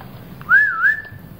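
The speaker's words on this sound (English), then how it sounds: "and they whistled the signal" Chipmunks whistle a signal: a clear two-note rising whistle, loud and close, standing alone against a faint background.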